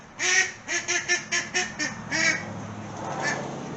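A duck quacks in a series of about eight loud, nasal calls over the first two seconds, then a fainter quack near the end, heard close and alone with no talk.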